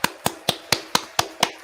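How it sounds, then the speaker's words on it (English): Hand claps close by, seven sharp evenly spaced smacks in a steady rhythm, with nothing else heard between them. "Nori claps."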